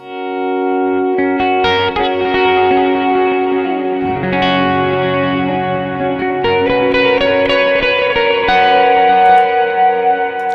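Electric guitar notes and chords swell and shift in tone through a Kemper Profiler Performance's morphing feature and heavy effects chain, smearing into a sustained, morphing wash with echo and reverb.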